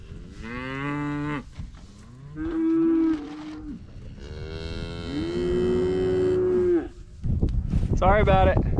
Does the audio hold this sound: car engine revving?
no